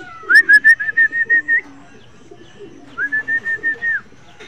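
Racing pigeons returning to their cage, giving two close bursts of repeated whistling notes, each a string of about six or seven pulses, separated by a short pause.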